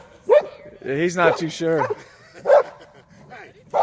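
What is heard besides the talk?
puppy and dog playing, barking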